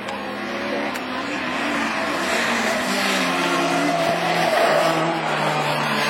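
Peugeot 306 rallycross car in a Division 4 race at Lessay, engine droning steadily at mid distance with a broad roar that swells slightly toward the end, amid constant track noise.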